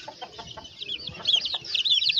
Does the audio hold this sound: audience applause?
no